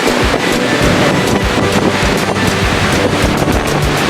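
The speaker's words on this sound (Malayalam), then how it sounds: "തണുപ്പ് കാറ്റാണ്. ക്ലിയർ ആകുന്നില്ല. നല്ല ഏകദേശം ഒരു നല്ല 50 കിലോമീറ്റർ സ്പീഡിൽ കാറ്റ് വരുന്നുണ്ടല്ലേ?" Strong cold wind of about 50 km/h at a waterfall viewpoint near Jog Falls, Karnataka, buffets the microphone in a constant loud roar with gusty rumbling, and no voices are heard.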